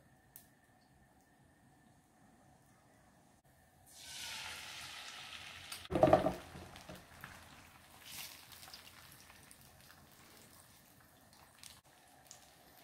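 Oil heating in a pan for an oyster omelette starts to sizzle after a quiet start, with a sharp spitting burst in the middle and then a softer steady crackle.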